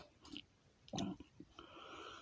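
Close, crunchy chewing of Walkers Wotsits Flaming Hot crunchy corn snacks: a few quick bites and crackling chews in a short burst, quiet and intimate with no talking.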